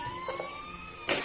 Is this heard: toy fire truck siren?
yes